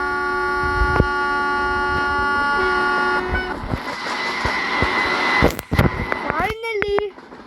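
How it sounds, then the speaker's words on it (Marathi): A train horn in the Indian Train Driving 3D game blares loud and sustained for about three seconds, then fades into mixed game noises and sharp clicks, with a brief rising tone near the end. "अच्छा अजून एक हॉर्न आहे"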